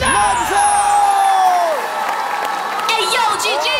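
Studio audience on a Korean talent show cheering and whooping loudly, with a dense, sustained crowd roar and excited shouts over continuous applause.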